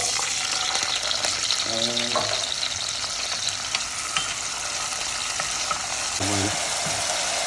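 Drained canned chickpeas fry in flavored oil in a pan, a dense continuous sizzle with a couple of brief stirring or scraping sounds, close and loud.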